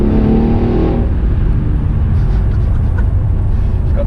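A Mercedes-AMG E63 rated at 679 bhp, its engine loud and close from inside the car on a narrow road, with a strong rumble that drops in pitch and settles into a heavy drone.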